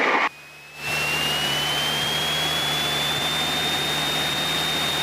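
Light aircraft piston engine held at 1800 RPM during a run-up, a loud steady drone with a rising whine, briefly dipping near the start then holding constant close by.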